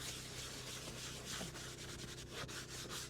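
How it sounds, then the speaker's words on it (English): Steady scrubbing of a car's interior surface with a scrub pad, a continuous close rubbing and brushing with quick back-and-forth strokes, faint and unbroken. "So gonna just scrub it all up."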